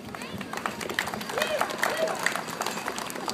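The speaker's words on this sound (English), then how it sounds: "I want you to stand up, please, so we can everybody give him a round of applause" An audience gives a round of applause for Chief Mercury, a treaty leader, at a gathering, with clapping mixed into crowd murmur and nearby talk.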